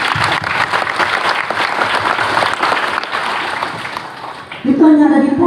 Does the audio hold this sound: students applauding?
yes